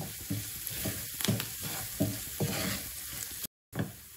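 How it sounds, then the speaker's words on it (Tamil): Garlic sautés in a pan with curry leaves and salt, a steady sizzle under repeated scrapes and clinks of a stirring spoon, close and quiet, with a brief dropout near the end. "பூண்டு கொஞ்சம் நல்லா வதங்கணும்."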